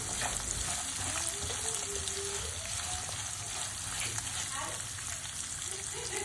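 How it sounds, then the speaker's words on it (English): Chopped onions, green chilies and curry leaves sautéing in a pan for lemon rice, producing a soft, steady crackling sizzle throughout with light stirring. "Saute them until the onions are nice and soft and pink in color."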